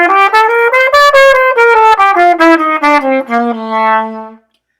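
A single wind instrument, likely brass, plays a V7 bebop scale loop as a clear run of distinct notes, mostly descending in a steady rhythm, loud and close, ending on a long sustained low note.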